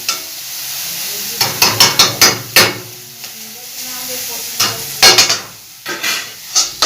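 Chow mein stir-fried in a pan with steady sizzling and repeated scraping, clattering strokes of a utensil against the metal, close and fairly loud, with a little talk in the background.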